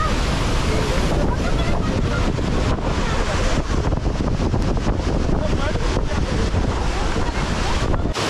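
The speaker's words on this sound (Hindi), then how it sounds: "सारे वाटरफॉल में से यही वाटरफॉल सबसे मेरे को बेस्ट लगा, वाटर का फ्लो बहुत तेज है" A fast-flowing waterfall in North Sikkim roars loud and close in an unbroken rush of water, with some wind buffeting the microphone throughout.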